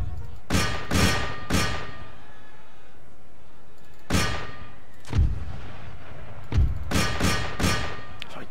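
Artillery booms in the Empire Total War battle: deep, heavy thuds arriving singly and in quick clusters of two or three, with ringing tails and quiet gaps between volleys.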